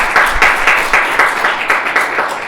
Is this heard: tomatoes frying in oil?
no